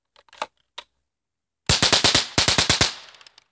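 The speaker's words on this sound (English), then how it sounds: "that was 10 rounds in what? 3, 4 seconds?" Ten rapid shots from a Mossberg .22 rifle, fired close and loud in two quick bursts of sharp cracks over about a second and a half, after a few soft clicks.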